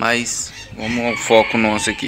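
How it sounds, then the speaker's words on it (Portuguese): A rooster crows outdoors on a farm, loud and close, while someone talks in Portuguese over and around the call. "Olha o galo cantando."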